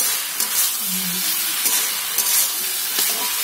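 Spice masala with salt and turmeric is stir-fried in a pan for chicken ghugni, giving a loud, dense, continuous sizzle with faint stirring scrapes.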